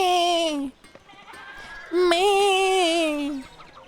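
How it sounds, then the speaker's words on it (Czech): Sheep in the medieval-set video game Pentiment give two drawn-out, wavering bleats, the first short and the second longer after a brief pause, both loud and close. "Jsou všude ovce. Všude."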